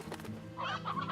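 Roostro and hens from Slime Rancher clucking in a pen, soft layered clucks and warbling calls, faint and brief with no talk.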